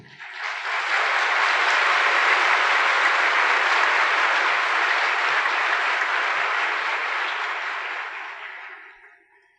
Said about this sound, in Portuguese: a eles vamos transmitir o nosso aplauso caloroso com todas as nossas vibrações